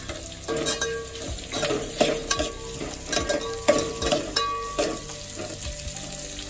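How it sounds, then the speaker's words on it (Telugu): Chopped green chillies frying in oil while a spoon stirs and scrapes the pan, giving a constant sizzle broken by repeated sharp metallic clinks and scrapes at a brisk, uneven rhythm, with no voices. "పచ్చిమిర్చి కట్ చేసి పెట్టుకున్నాం కదా ఇది కూడా వేసేస్తున్నాం"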